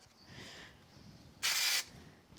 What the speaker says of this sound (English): let's just use some spray glue